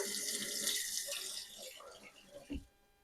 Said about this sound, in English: Get a little knife rinsed off.